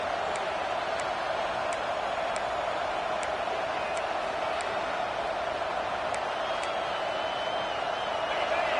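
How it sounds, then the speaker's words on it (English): A dense, steady roar of a large stadium crowd at an Oklahoma vs Texas A&M football game fills the space continuously, with a commentator's voice talking over it. "This crowd bringing the energy and noise early."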